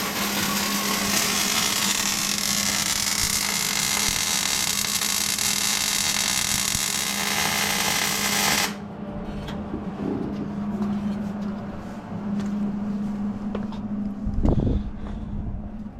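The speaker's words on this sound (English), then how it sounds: "So we're welding on the last one." Welding on the rear shackle mounts of a 1957 Chevrolet: a loud, continuous electric buzz and crackle for about eight seconds, then it stops abruptly, leaving a low hum and a few faint knocks.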